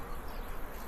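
Bees buzz at a bee farm in a brief, dense, steady drone that is close and surrounding, with no talking.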